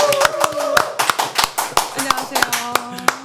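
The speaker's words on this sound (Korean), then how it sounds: "두 분 박수로 환영하겠습니다" Small studio audience clapping in welcome for two guests on a Korean talk show, distinct separate hand claps in an uneven rhythm with speech over them.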